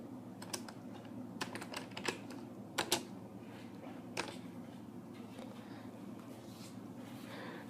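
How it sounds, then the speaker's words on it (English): Quiet, irregular clicking of keys on a computer keyboard, bursts of several taps with short pauses, nearby and soft. "before we start typing in our code."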